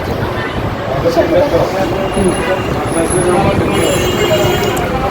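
Roadside traffic rumbles at a bus counter, with bus and truck engines passing and faint brake hisses, mixed with nearby voices.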